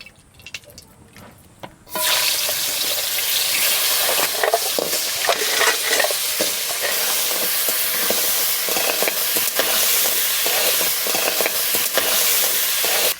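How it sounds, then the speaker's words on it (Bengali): Crabs with turmeric and salt drop into hot oil in a wok, bursting into a loud, steady sizzle and hiss of frying after a quieter opening, continuing unbroken with occasional crackles and no talk. "কড়াই গরম হয়ে গেছে, আমি এবার কাঁকড়াগুলো ভেজে নেব।"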